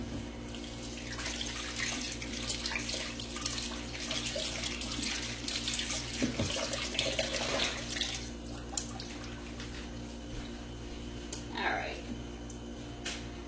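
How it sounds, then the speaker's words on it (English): A kitchen tap runs steadily while hands are washed for a Beef Wellington, with splashing and shifts in the water flow over a low background hum and a few faint thumps. "let me wash my hands and then smear that on"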